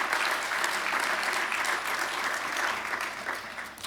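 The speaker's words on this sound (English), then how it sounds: "Let's give them a round of applause as well." Audience at a mayoral award presentation in Albuquerque gives a full round of applause, a thick, even roar of many hands clapping that holds steady and eases slightly at the end.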